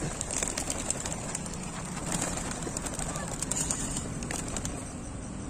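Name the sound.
racing pigeons cooing and flapping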